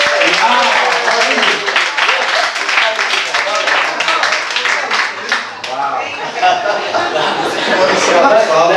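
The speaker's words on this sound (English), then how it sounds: "Okay, let's give a round of applause." An audience at a Courtyard Playhouse master class gives a round of applause, sustained clapping mixed with chuckles and chatter that thins slightly midway before swelling again.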